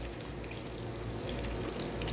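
Potato cutlets frying in a pan give a steady, even sizzle, a constant watery crackle with no voices.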